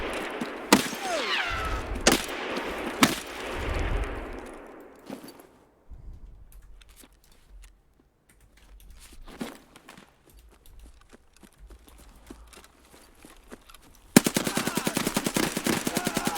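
Rapid bursts of automatic gunfire from a gun in Escape from Tarkov, loud and close, with sharp volleys early on, a quieter stretch of scattered shots and footsteps, then a dense sustained burst near the end.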